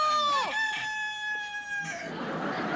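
A rooster crows loudly and close, one long drawn-out cock-a-doodle-doo with a rising start and sustained tone, followed by a rougher noisy tail as it fades.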